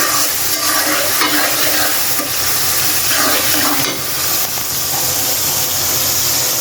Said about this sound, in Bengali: কড়াইতে আমি বাগার দেওয়ার জন্য এই যে পেঁয়াজ মরিচ আর রসুন একসাথে দিয়ে